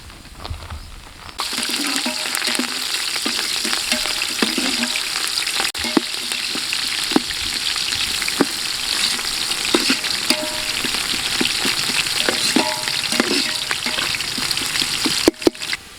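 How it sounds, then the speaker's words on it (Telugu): Onions fry in a pan with cardamom, cloves, cinnamon, bay leaf, mace and stone flower for a spicy village country-chicken curry. The sizzle is loud and continuous, close up, with occasional stirring scrapes. "ఇప్పుడు మనకు ఉల్లిపాయలు కొంచెం బ్రౌన్ కలర్కి వచ్చేసినాయి కదా, కాస్త వేగాయి."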